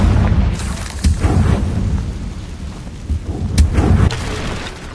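Confringo blast spells burst in Hogwarts Legacy: several loud booming explosions in quick succession, heavy low-end impacts rolling together over a few seconds.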